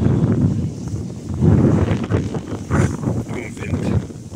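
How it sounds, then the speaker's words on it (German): Wind gusts buffet the microphone outdoors in the Masuria countryside on a hiking trip, a continuous rough rumble that surges and eases over a few seconds, with no voices. "Wind."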